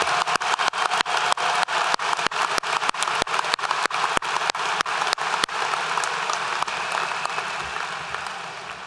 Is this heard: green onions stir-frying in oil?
no